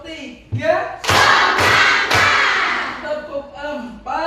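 An elementary school class of fifth graders claps together during a morning ice-breaker, making three loud, evenly spaced group claps in quick succession, with voices calling out between and after them.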